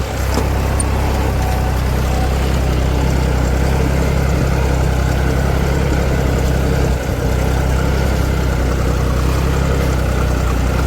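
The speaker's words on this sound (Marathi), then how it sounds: "ट्रॅक्टर पुढे चालू आहे" A tractor engine runs steadily nearby, a loud continuous low rumble that stays constant throughout with no voices, the tractor pulling a Lemken cultivator with a broken tine.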